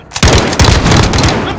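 Dense, continuous gunfire roars in a video game firefight, loud and sustained, with heavy booming shots layered in a short, intense burst.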